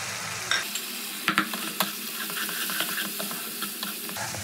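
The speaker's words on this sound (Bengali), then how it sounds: "এবার সব মশলাটা আমি খুব ভালো করে কষিয়ে নেব" Turmeric, cumin and chilli powder sauté with spices in a pan, giving a soft hissing sizzle dotted with sharp spatula scrapes and taps, a few louder clicks early on, and no talking.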